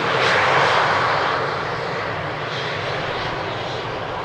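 A jet airliner rolls out after landing on runway 18R at Amsterdam Schiphol without thrust reversers, giving a loud, steady broadband engine roar that is strongest at first and then eases slightly but holds on, with no talk.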